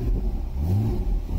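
A Porsche engine revs up as the accelerator is pressed, a steady close, loud low rumble with rising pitch held for about a second and a half, no voices.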